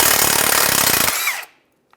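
Power tool, likely an impact wrench, spins off a 17mm nut on the torque strut mount of a 2007-2015 Mazda CX-9, a loud sustained buzzing burst for about a second and a half that cuts off abruptly, followed by silence.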